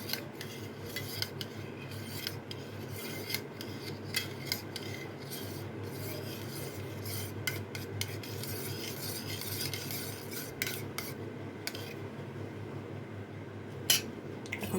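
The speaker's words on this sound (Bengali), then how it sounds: "সেই দইয়ের ছাঁচটা এর মধ্যে আমি দিয়ে এখন একটু চামচ দিয়ে এটাকে ঘেটে দেব" A metal spoon stirs yogurt starter into boiled milk in a bowl, giving a continuous close scraping and rubbing with small clinks against the bowl, steady throughout with no talk.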